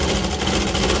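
Sewing machine stitches fabric in a continuous, rapid, even mechanical rattle, close and loud, with no pauses over the short run.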